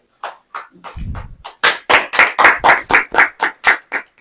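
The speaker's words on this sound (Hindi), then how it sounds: "तालियां बजेंगी कि नहीं?" A church congregation claps in unison during a Hindi sermon, loud close rhythmic claps in a steady beat with a brief low rumble early on, about a dozen sharp strikes in quick succession.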